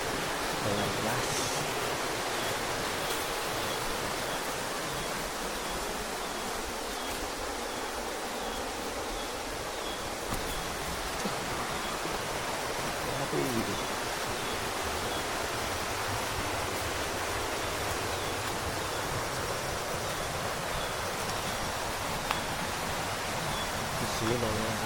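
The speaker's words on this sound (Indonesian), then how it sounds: "Sungai Cimandala sudah jelas." The Cimandala river rushes steadily through mountain terrain, a broad constant wash of flowing water heard close and loud for the whole stretch, with no voices over it.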